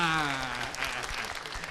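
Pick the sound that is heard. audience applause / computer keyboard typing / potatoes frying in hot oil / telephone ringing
audience applause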